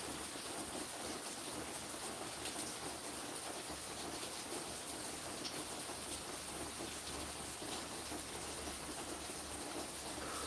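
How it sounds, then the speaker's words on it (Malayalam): Heavy rain pours steadily, a dense constant hiss of drops on surfaces with a low rumble underneath, no voices. "നമ്മുടെ ഇവിടെ നല്ല മഴയാണ്"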